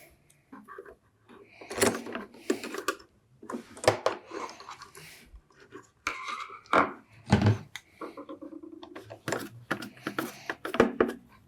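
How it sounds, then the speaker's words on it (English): Screwdriver driving screws into the casing of an Akai 4000D reel-to-reel tape deck, heard as close, intermittent creaks, scrapes and clicks with pauses between turns. "Little bit of jiggling to get the screws in, but they're going easy enough"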